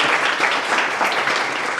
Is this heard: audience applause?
yes